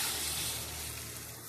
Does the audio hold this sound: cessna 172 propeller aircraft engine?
no